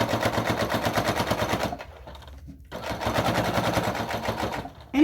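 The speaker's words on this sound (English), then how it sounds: "Anytime you're sewing through a lot of layers, a denim needle is really good to use." A sewing machine fitted with a denim needle stitches through multiple thick fabric layers, running in fast rapid-fire bursts with a short pause midway, loud and close, no voices.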